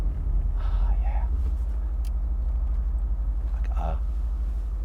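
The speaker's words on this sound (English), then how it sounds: "Listen to that. You hear that? Oh, wow, great exhaust tone." A 2014 Mercedes-Benz SL 63 AMG on the move: a deep, continuous exhaust rumble dominates throughout, with brief faint voice fragments and a couple of short higher noises over the low drone.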